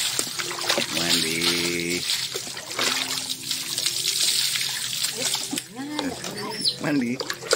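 Water splashes and trickles steadily while a pet is bathed, with voices and drawn-out vocal sounds over the pouring throughout.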